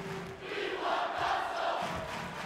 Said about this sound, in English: Crowd is calling for Wooten.